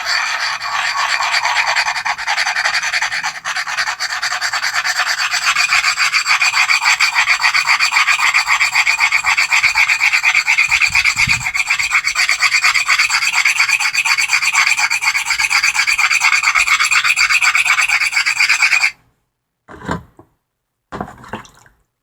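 An agate's outer rind grinds against a wet stone with a loud, continuous, close rasping scrape, which stops abruptly near the end and is followed by a few brief scuffs.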